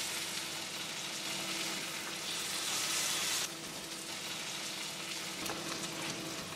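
Morel mushrooms fry in bacon grease in a cast iron skillet, giving a steady, dense sizzle that swells louder for a few seconds and then settles back to an even crackle, with no talking.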